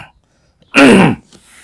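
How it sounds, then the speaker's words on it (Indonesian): A single harsh cough, close and loud, lasting about half a second, with quiet before and after. "maaf saya masih batuk ya"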